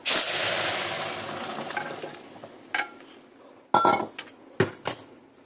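Boiled mung dal pours into a pan of fried bay leaves, dried chilies and cumin, setting off a loud burst of sizzling that gradually dies down, followed by several sharp clinks and scrapes of a spoon against the pan.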